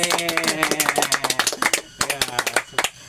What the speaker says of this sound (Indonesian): Oke, teman-teman, tepuk tangan dulu dong untuk ya.